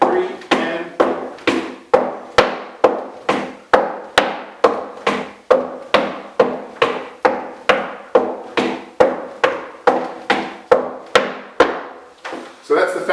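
Flatfooting or clogging walking step taps from shoes striking a wooden floor, about two sharp percussive hits per second in a steady even rhythm, close and loud with no voice.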